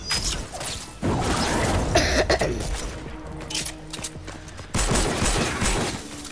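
Bursts of rapid video game gunfire fill the clip, dense and loud near the start, easing midway, then a fresh heavy burst near the end, with clattering mechanical noise between volleys.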